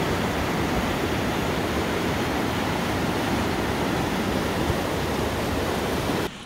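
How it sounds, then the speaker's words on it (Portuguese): A waterfall at Morro do Chapéu in Bahia's Chapada Diamantina, swollen after heavy thunderstorms made rivers overflow, roars as a loud, dense, unbroken rush of water with no voices. "Olha só que coisa linda essa cachoeira lá em Morro do Chapéu."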